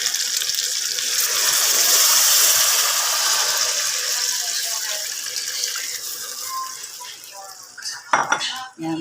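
Tap water running into a pan of sautéed fish dish, a steady splashing pour with clinking cookware and utensils, ending in a few sharp knocks.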